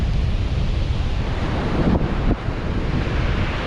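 Ocean waves break on a beach in Spain, a constant loud roar of surf mixed with heavy wind buffeting the microphone, and no voices.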